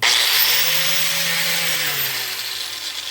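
BAUER angle grinder with trigger switch, an 8 amp tool, whining at full speed in a loud, steady high-pitched tone that slowly winds down toward the end.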